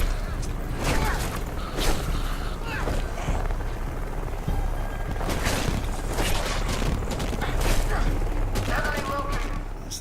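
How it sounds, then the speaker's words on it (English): Gunfire in the video game Deadlight, with bursts of shots tearing through a room over mechanical clatter and creaking, loud and dense across the whole stretch, with a voice talking now and then. "So they're shooting up the whole room."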